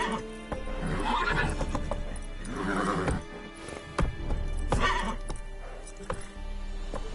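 Roach, a horse in The Witcher on PS5, neighs and whinnies several times while galloping hoofbeats clip-clop steadily underneath, loud and close throughout.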